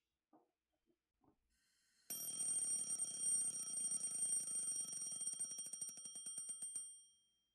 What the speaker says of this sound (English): I shut off the alarm by reflex.